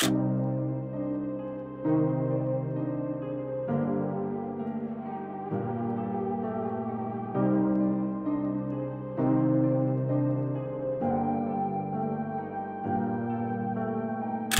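A gentle piano melody plays chords over a steady, looping pattern, warm and close, with no voices.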